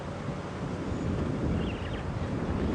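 Strong wind buffeting an open vehicle on an afternoon game drive at Djuma Game Reserve, a steady low rushing roar that fills the whole moment without letting up.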